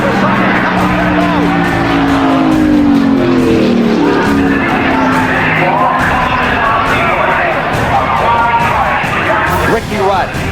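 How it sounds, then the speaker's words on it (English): A race car slams into the wall, crashes and rolls over side over side, heard as a continuous loud roar of engines and crowd noise with an excited commentator talking over it throughout. "Ricky Rudd slamming toward the wall, crashing, rolling over"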